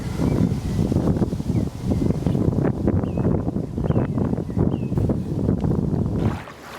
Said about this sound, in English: as you can probably hear, it's proper windy.